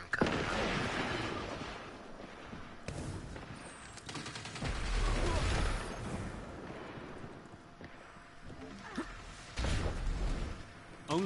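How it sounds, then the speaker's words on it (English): Gunfire and explosive bursts in a Destiny 2 PvP match, with repeated shots and heavy booming impacts rising and falling amid dense game noise. "Stop shooting at me"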